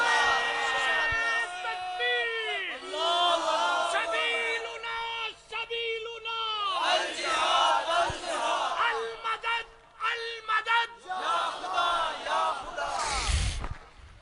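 A large crowd at a religious gathering chants slogans for Palestine, with loud rhythmic shouted calls and responses that rise and fall in waves, then a sharp thump at the end.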